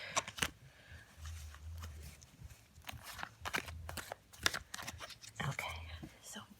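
Rune oracle cards are shuffled by hand in a few quick, soft bursts of riffling and sliding, close and quiet, separated by short pauses, with faint whispery breath sounds in the background.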